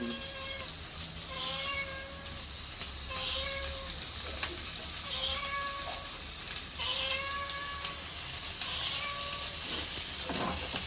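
Sicklefish and Gerres fish frying in oil, a steady crackling sizzle running beneath a cat meowing repeatedly and prominently in a regular pattern.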